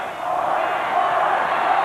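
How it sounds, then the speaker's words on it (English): A vast outdoor crowd of hundreds of thousands of fans roars and cheers at the Chicago Bulls' first championship celebration in Grant Park, a dense, sustained wall of distant and near voices with no break. "Listen to the crowd."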